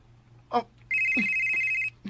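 A telephone rings with a single steady electronic tone lasting about a second, close and clear, with short bits of a voice just before and right after it.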